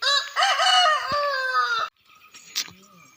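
A rooster crows loudly and close by for nearly two seconds, followed by quieter clucks and faint chicken sounds.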